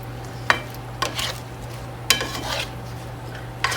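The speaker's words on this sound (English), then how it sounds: "So you want to go ahead and get the potatoes coated in the oil." Potatoes being stirred and coated in oil in a skillet, with a few sharp scraping and clinking strikes against the pan at spaced intervals over a steady low hum.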